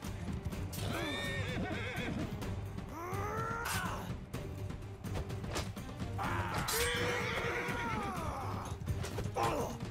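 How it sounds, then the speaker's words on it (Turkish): A horse neighs loudly several times in Mount & Blade II: Bannerlord, with rising and falling whinnies over a busy background of hoof clatter and game noise. "Aa, at var karşıda."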